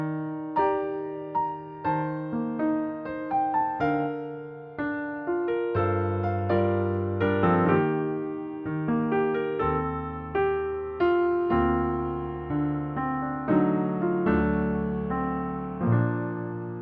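Solo piano plays the intro of a ballad, close and clear, with sustained chords, a deep bass line and a melody of repeated struck notes, steady and moderately loud with no voice.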